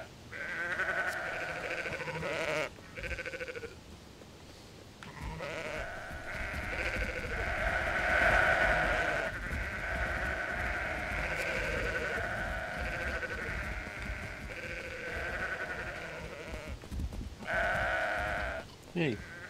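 Sheep bleating during a herding challenge in the Sudeki video game, a sustained chorus of bleats running almost continuously, mixed with game music and character voices.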